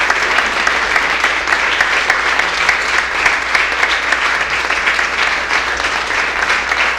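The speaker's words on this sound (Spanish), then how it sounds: "Vamos a darle un fuerte aplauso a nuestro Señor." A church congregation claps together in steady, dense applause at a Sunday service, a continuous wash of many hands that stays loud and even throughout.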